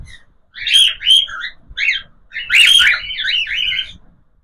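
Cockatiels calling loudly and close by, shrill whistled chirps in two bursts of repeated calls with a short pause between, no voices over them.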